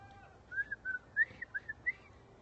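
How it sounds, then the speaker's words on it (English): A person whistles a short run of breathy, wavering notes, six or seven quick chirps in an uneven rhythm, fairly faint and close in a quiet room. "I'll try and whistle again."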